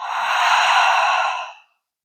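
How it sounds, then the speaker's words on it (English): A single long, breathy exhale through the mouth during a group breathing exercise, loud and close, swelling then tapering off into silence. "let's take a full breath in through the nose. Holding at the top. And then opening the mouth for a full exhale."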